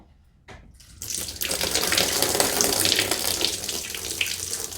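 Coolant drains from the radiator overflow tank of a 2004-2006 Lexus RX330, starting after a brief silence and building into a steady close splashing gush that runs to the end.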